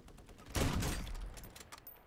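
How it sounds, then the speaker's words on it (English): A sudden burst of enemy gunfire in a shooter video game, a loud volley erupting after a brief quiet stretch and then tapering off into scattered fainter shots. "But his teammate's shooting me."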